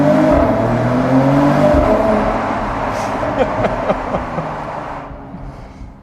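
A Mercedes-AMG E53 Cabriolet engine revs inside a tunnel, a loud, sustained booming drone with echoing reverberation, fading and thinning toward the end of the clip.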